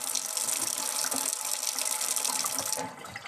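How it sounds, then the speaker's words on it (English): Water runs steadily from a kitchen sink tap as hands are washed, a loud continuous gushing stream that drops off abruptly near the end. "make sure you wash your hands"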